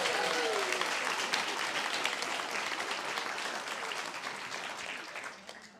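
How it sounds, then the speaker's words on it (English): Applause from a graduation audience honoring two new guide dog breeder dogs, a steady wash of many hands clapping that slowly thins and fades out at the end. "Let's give a round of applause for our 2 new breeder dogs."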